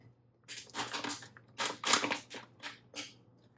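Scissors snip and crunch through the bottom of a plastic self-watering planter, a series of close, crisp cuts in irregular bursts with short pauses between them.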